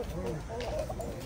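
Fighting roosters tethered at an open-air village market in South Korea cluck nearby, heard briefly over a busy background of voices and market noise.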